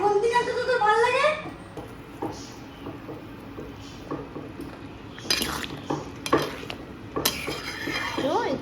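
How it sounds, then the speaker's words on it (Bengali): Spatula stirring curry in a pan, with intermittent scraping and clinks against the metal, a voice talking over the first second or so and a faint sizzle underneath. "এবার এটাকে নাড়ো সুন্দর করে"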